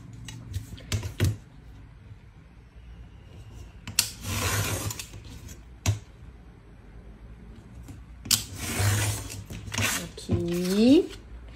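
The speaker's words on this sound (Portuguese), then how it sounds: "E eu vou começar a minha arte cortando, né, com régua e estilete" A craft knife drawn along a ruler to cut paper, making several short rasping scrapes with pauses between them, close by. Speech is heard in the clip.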